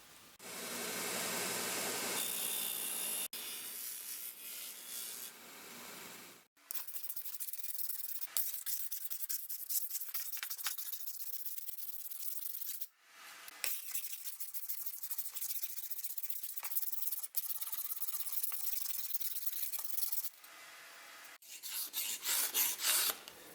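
An old razor blade scrapes down a split wooden axe handle during a flea-market axe restoration, giving long, steady rasping strokes in several extended bursts with brief pauses between them, close and fairly loud, with no talking.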